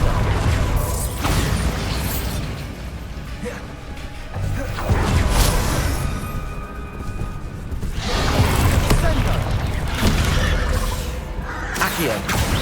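Bombarda blasting spells go off in Hogwarts Legacy as repeated bursts of crash and whooshing impact, loud and spaced several seconds apart, with a voice speaking over the game sounds.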